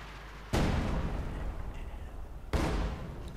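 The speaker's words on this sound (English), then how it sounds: "SN6 is setting up to barrage." An SU-76 artillery barrage in the video game Company of Heroes 2, two heavy booming impacts about two seconds apart, loud and close, each followed by a rumbling decay.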